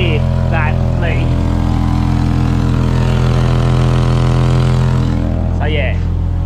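Engine idling steadily with a turbo leak, a loud continuous hum and rumble, with someone talking over it.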